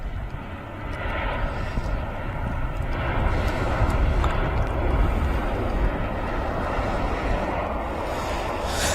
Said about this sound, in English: EasyJet just touching down here in this lovely Manchester afternoon